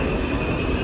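Subway train running in the Bronx: a loud, close, continuous rumble of rolling wheels and car noise with a thin high steady tone above, filling the whole moment without voices.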